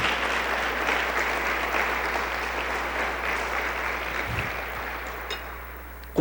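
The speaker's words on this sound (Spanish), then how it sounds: "Démosle un aplauso al Señor y ya seguimos." A church congregation applauds during a sermon, a steady wash of many hands clapping from some distance that slowly fades out.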